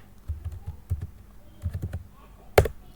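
Keys tapped on a computer keyboard while entering a Windows run command to clear junk files, a few scattered clicks and short bursts followed by one sharper, louder keystroke near the end, close up with no talking.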